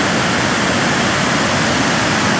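Floodwater from a river rushes across a collapsed road at kilometre 56 of the Alóag–Santo Domingo highway, a loud, steady, close roar of churning water with no break and no voices.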